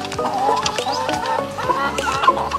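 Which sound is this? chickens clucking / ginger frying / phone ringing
chickens clucking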